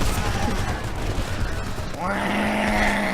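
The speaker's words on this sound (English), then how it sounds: "I can't hear you over the gunfire" Rapid gunfire crackles continuously in the video game Homefront, dense and loud, with a tonal hum rising partway through; no clear voices stand out.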